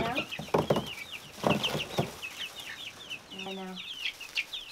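Pheasants and other farm birds cluck and call repeatedly at close range in an open outdoor area, their sharp chirps overlapping, with a person's voice briefly heard among them.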